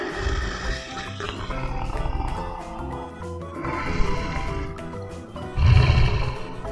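Deep, rasping cheetah roars swell and fade several times, loud and close, with a heavy rumbling low end between calls.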